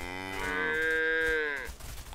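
A single drawn-out cow moo from a video game, rising and holding steady for about a second before trailing off, heard clearly and alone with no talk over it.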